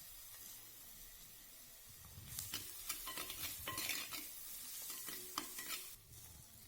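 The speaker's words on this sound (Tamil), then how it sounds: "எல்லாம் நல்லா வதக்கி விட்டதுக்கப்புறம் கறிவேப்பிலை இலைகளை சேர்த்திக்குங்க" Vegetables sauté in hot oil after curry leaves go in, giving a steady sizzling hiss that flares louder midway, with repeated clanks and scrapes of a ladle on the pan.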